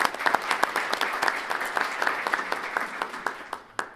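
A community audience at a civic event gives a round of applause, a dense patter of many hands clapping at moderate distance that gradually thins out toward the end.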